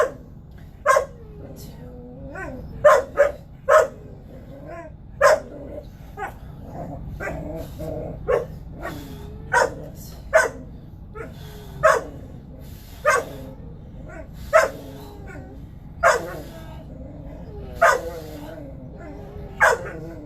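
Several dogs bark in sharp, repeated bursts throughout, fairly close by, with occasional yips and whimpers between barks and a steady low hum beneath; a person is heard faintly at times.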